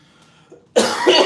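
A burst of harsh, close coughing erupts after a quiet stretch, two loud hacking coughs in quick succession.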